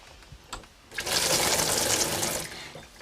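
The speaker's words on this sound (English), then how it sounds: "They've even got hot and cold running water." Hot and cold running water from a tap on a soap-opera set: a steady broadband hiss of flowing water swells in after a quiet start and runs for about a second and a half before easing off.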